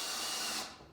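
A power drill drives screws into boards in a garage, with a loud, close, steady whirring burst that stops abruptly near the end.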